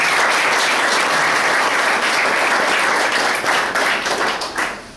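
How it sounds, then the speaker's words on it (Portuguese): Dense, steady applause from an audience at a charitable association's fraternal gathering fills the room, close and loud, before thinning out toward the end. "Uma salva de palmas."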